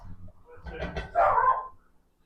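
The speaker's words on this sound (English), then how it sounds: "Sorry about the barking dog" A dog barks a few times close by, short sharp yaps in a quick burst, then quiet.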